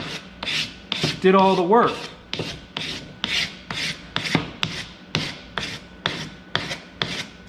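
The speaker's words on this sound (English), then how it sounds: "if you do a good job with each layer of sandpaper, the next layer is going to be that much easier" Sandpaper is rubbed by hand over a metal casting during cleanup: a steady series of close, rhythmic back-and-forth rasping strokes, with a brief spoken phrase near the start.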